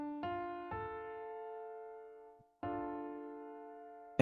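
A sustained root-position triad chord rings out, struck twice and left to decay, resonant and close like a piano.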